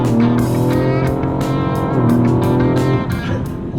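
A Ford Explorer ST with a tuned transmission and monstrous torque launches hard in a drag race against a Dodge Durango SRT, its engine roaring loud and steady with sustained rising harmonic tones, briefly dipping as it shifts.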